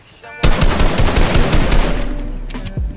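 Gunfire in a video game shooting at a wall, a loud rapid automatic burst of shots close up, tailing off with a couple of later shots.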